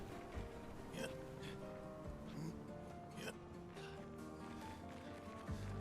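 A person hiccups repeatedly, in faint, short, jerky catches of breath spaced unevenly over a quiet, busy background.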